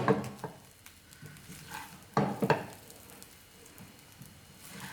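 Gobi (cauliflower) fried rice being stirred in a pan, giving soft scraping strokes over a faint sizzle, with a louder burst of scraping near the middle and quieter stirring around it, no voices.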